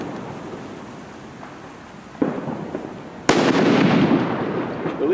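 Fireworks and firecrackers set off in Valencia, with a sharp bang midway and a louder blast whose crackling, hissing burst fills the rest, close and loud, no talking.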